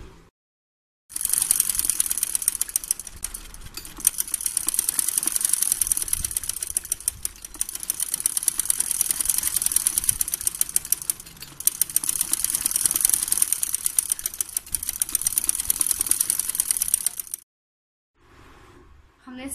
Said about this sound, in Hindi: अब हम इसकी साइड की सिलाइयाँ लगाएंगे।